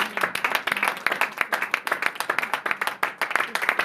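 A church congregation claps together to acclaim the Lord, crisp close hand claps in a quick, steady rhythm that keeps going throughout.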